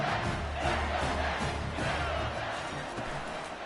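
A stadium crowd roars continuously in a college football video game, a dense loud wash of cheering and shouting behind the defense on fourth down.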